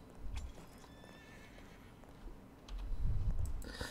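Horse in the Red Dead Redemption 2 video game whinnying, with clip-clop hoofbeats that grow louder and nearer toward the end, over faint game ambience and clicking.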